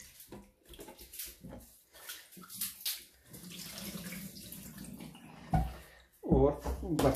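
Turmeric water used to wash fish is poured out of a vessel into a sink, splashing and trickling in uneven bursts while a person talks nearby.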